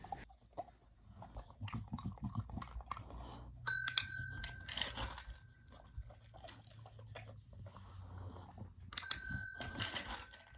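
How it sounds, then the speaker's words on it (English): A trained dog paws at a desk bell, giving two sharp rings several seconds apart, each tone lingering, amid quiet chewing and shuffling sounds close by. "waited for her to hit the bell"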